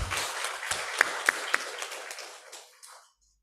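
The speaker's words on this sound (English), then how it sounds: "give big applause for her" Lecture audience applauding a speaker being welcomed at a university general lecture, a broad wash of clapping with a few sharp near claps standing out, fading out after about three seconds.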